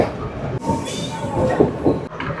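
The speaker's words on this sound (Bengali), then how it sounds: "ছেড়ে দিল ট্রেন মারাডানা রেলওয়ে স্টেশন থেকে" A train pulls out of Maradana railway station in Colombo, Sri Lanka, a steady rolling rumble with rising wheel and carriage noise, continuous and fairly close.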